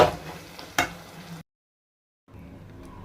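Chicken frying in a pan for bagara rice: a steady close sizzle with a stirring scrape, cutting to complete silence, then the quieter sizzle resuming.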